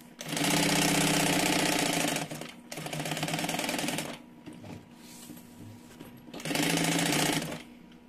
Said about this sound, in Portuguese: costura bem na beiradinha, costura até aqui em cima